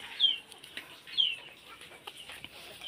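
Four chickens in a coop give soft clucks and a couple of brief high calls, faint and intermittent, with little else around them.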